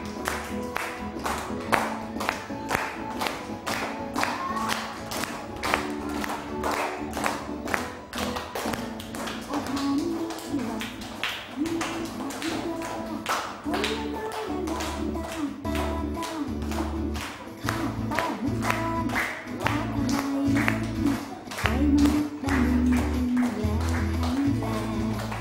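Children in a classroom clap along in steady rhythm to a recorded song about healthy food, sharp regular claps over the playing music, continuing throughout.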